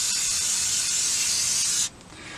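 Aerosol rust-prevention undercoating sprays steadily under a car, a loud continuous hiss held close for almost two seconds before it cuts off abruptly, leaving quiet room tone.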